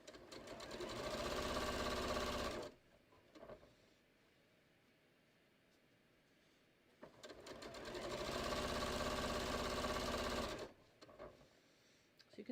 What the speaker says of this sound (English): I'm just sewing straight down, matching up my piping as I go